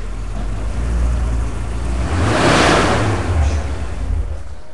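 Car engine revving in a 1947 Chevy or a 1986 Porsche 928, a loud, close, continuous rumble that swells to a peak midway and then settles back to a steady drone, with no talking.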